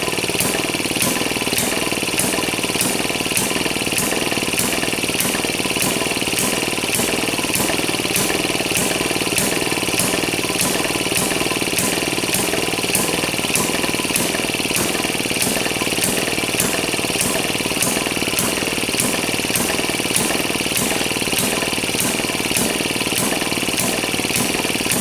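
An old Maytag engine runs and idles with a fast, even putt-putt beat that stays steady and close for the whole stretch.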